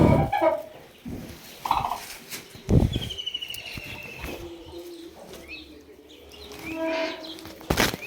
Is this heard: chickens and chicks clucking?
yes